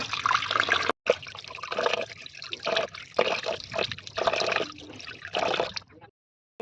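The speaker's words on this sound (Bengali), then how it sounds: "আমি এখন ভালোভাবে ধুয়ে নেব" Running water splashes and trickles steadily as vegetables such as cauliflower and peas are washed for cooking on a rooftop in winter, close and fairly loud, with short pauses and a brief silence near the end.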